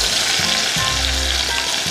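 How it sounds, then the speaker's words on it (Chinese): Pepper, ginger and scallion whites being stir-fried in a wok: a loud, steady sizzle throughout, with a few scraping stirs of the spatula and no voices. "再放入胡椒粉，放入姜和葱白， 调下去，调调"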